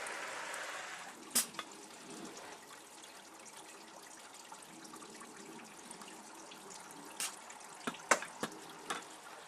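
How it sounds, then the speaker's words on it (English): Rice simmers in a pot on an outdoor folding firebox stove, a soft, continuous bubbling and trickling at low volume, broken by a few sharp clicks and taps. "we're still simmering this here"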